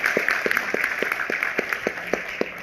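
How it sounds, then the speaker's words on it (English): At a product grand launch event in the Philippines, an audience claps in a steady rhythmic beat, evenly spaced sharp claps over a constant hiss of crowd ambience. "a nice round of applause, if you would, for the leaders that we have in Whitebird"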